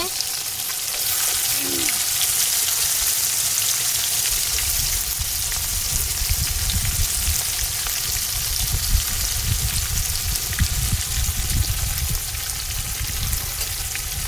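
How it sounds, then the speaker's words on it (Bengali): Onions fry in a pan for a mutton curry cooked outdoors in a garden, a continuous loud sizzling hiss with a low rumbling undertone, steady from start to finish with a brief voice near the beginning. "পেঁয়াজ দিয়ে দিচ্ছে, পেঁয়াজটা ভেজে নেবে"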